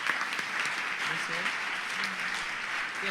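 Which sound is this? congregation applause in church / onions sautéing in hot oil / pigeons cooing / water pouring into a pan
congregation applause in church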